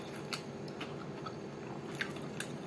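A person eats at close range, with quiet, irregular bites and soft crunchy chewing over a low background hum.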